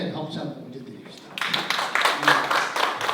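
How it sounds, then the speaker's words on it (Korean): A church congregation at a lecture breaks into applause of thanks: a brief stretch of speech, then dense clapping that swells and carries on. "하나님 앞에 감사의 박수 한번 올려드립시다."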